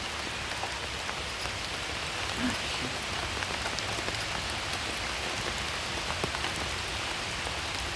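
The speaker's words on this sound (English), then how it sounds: "It is raining. It's raining." Steady rain patters densely on a nearby surface, a constant hiss with no break.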